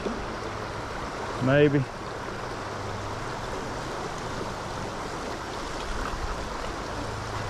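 Fast-flowing trout stream water rushes steadily as a broad, continuous wash. It runs close and moderately loud, and a brief voice rises over it once.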